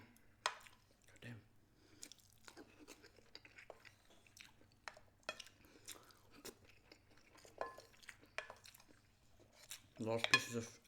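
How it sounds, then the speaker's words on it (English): Metal cutlery clinks and scrapes against a plate while scrambled eggs are eaten, with scattered sharp clicks and soft chewing, a louder cluster of scraping near the end, close and fairly quiet. "Trying to make as less noise as I can with this plate."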